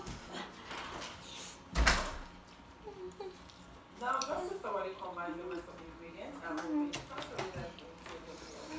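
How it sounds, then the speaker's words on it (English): A door shut at home during a spicy noodle challenge, a single dull thud followed by lively talk and laughter. "I come close the door"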